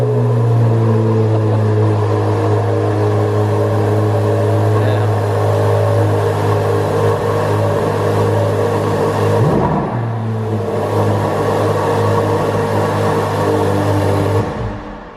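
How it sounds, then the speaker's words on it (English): Corvette Z06 engine idling loud and close with a steady low drone, dipping briefly before settling back into a rumbling idle, with people talking over it. "Logan, he's gonna start the Z06, buddy."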